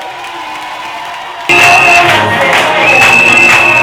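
Wedding guests burst into loud cheering, whoops and shouts for the grandmother, the crowd noise jumping up abruptly and staying dense and close.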